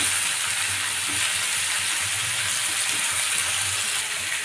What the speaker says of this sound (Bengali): তো দেখো বন্ধুরা, আলুগুলো খুব ভালোভাবে ভাজা হয়ে যাচ্ছে।